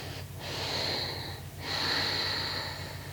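Breathing in the upward-facing dog yoga pose: a long audible nasal inhale, a short pause, then another drawn-out breath, close and fairly soft over a low steady hum, with no talking.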